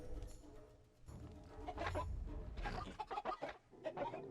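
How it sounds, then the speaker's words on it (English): A herd of Gallimimus dinosaurs in the video game Jurassic World Evolution gives bursts of chicken-like clucking and squawking calls, several animals overlapping in irregular clusters at a moderate distance, quiet overall and with no talk. "Sounds like a bunch of chickens."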